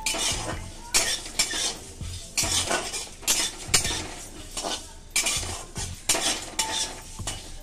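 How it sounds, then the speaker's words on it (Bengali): Ingredients fry and get stirred in a hot wok for raw banana kofta curry. Close, repeated metallic scraping and clattering comes in rhythmic bursts over a faint sizzle, with no voices. "কড়াইটা গরম হয়ে গেছে, এর মধ্যে আমি এগুলো ভেজে নিচ্ছি"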